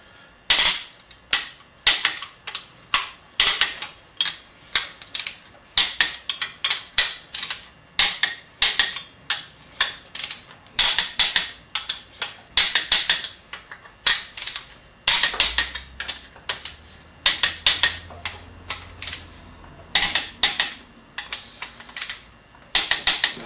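A wrench tightens the tall center main bearing bolts on a Chevy 350 small-block engine, giving a long series of sharp ratcheting clicks in quick bursts with short pauses, close and alone.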